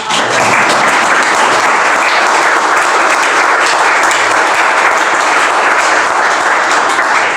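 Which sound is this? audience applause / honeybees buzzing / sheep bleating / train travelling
audience applause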